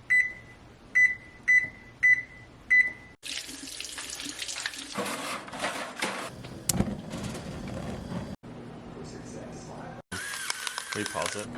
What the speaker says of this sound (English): So I'm just gonna preheat the oven real quick.